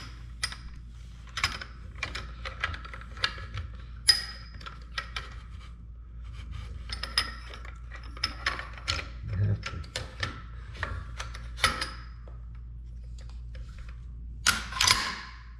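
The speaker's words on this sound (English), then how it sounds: "Put the gas tube back. Bolt carrier." A Valmet M76 rifle reassembled by hand, gas tube and bolt carrier being fitted back, sharp metallic clicks and knocks in irregular bursts over quiet room tone, with a louder clatter near the end.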